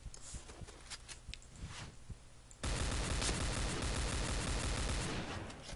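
Gunfire in the video game Point Blank: a loud, dense burst of rapid shots starts partway through and continues steadily to the end, after a quieter stretch with scattered sharp hits.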